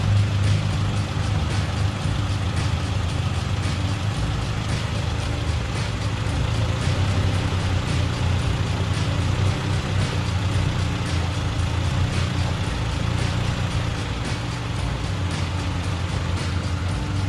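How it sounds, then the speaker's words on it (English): A Honda car from the 1988–2000 range idling steadily while its brake lines are bled, a continuous low, even engine hum with faint mechanical rattle and no talk. "But this time we're going to keep the car running."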